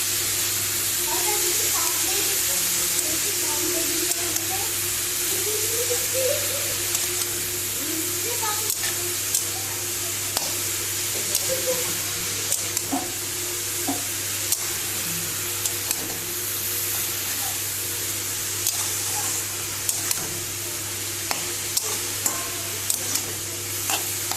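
Carrots for a vegetable momo filling are stir-fried in a hot pan, giving a continuous close sizzle with repeated scraping stirs and small ticks scattered throughout.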